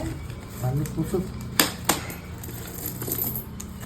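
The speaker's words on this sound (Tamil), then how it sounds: "சின்ன உண்டியல் ஆனாலும் இவ்வளோ காசு இருக்குல்ல" Coins tip out of a small piggy bank with a few sharp metallic clinks and rattles, heard under a person talking.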